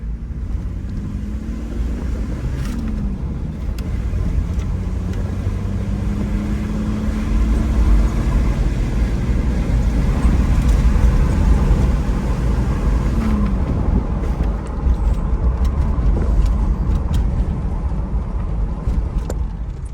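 Diesel Toyota Land Cruiser 105 Series pulling away in second gear, a steady low engine drone that swells as it accelerates, with road and wind rumble throughout and no talk.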